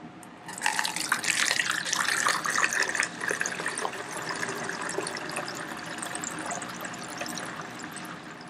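A mix of water, baking soda and isopropyl alcohol is poured through a small funnel, a close, steady splashing trickle that starts abruptly and continues for several seconds, louder at first and then slightly softer.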